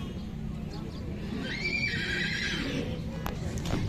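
At a horse market, a horse lets out a clear, rising whinny mid-way, with hooves clopping and a crowd murmuring in the background, while someone talks.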